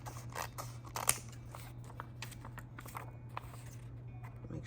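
Scissors snip through paper in a series of quick, close, crisp cuts against a quiet room hum, one louder snip standing out.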